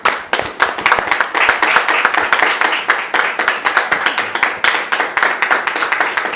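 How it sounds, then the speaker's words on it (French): An audience breaks into dense, steady clapping to welcome a guest. The applause is close and loud throughout, with little speech. "je vais demander à nos frères de nous aider à le recevoir avec vos applaudissements"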